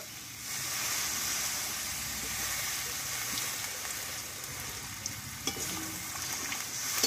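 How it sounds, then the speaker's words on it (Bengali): Water goes into a pan of sautéed, spiced vegetarian drumstick curry, setting off a loud, continuous hissing sizzle with steam, plus a few faint stirring knocks close by. "এবার জলটা দিয়ে দেব"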